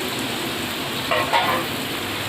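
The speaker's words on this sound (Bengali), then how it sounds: "এবার আমি আলুটা দিয়ে দিলাম এর মধ্যে" Potato pieces frying and being stirred into mutton kosha in a pan, a soft steady sizzle with a couple of brief scraping bursts near the middle.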